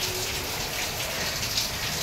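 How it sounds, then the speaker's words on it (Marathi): Heavy rain pouring in Mumbai: a dense, steady patter and hiss of raindrops striking surfaces nearby, constant over the short stretch with no voices. "पाऊस आहे, जोरदार आहे."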